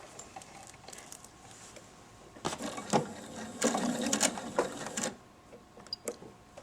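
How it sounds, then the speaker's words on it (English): A sewing machine stitching in reverse runs in short bursts, its fast mechanical stitching rattle rising and stopping several times, fairly close with no voices. "and then you're going to put your sewing machine in reverse"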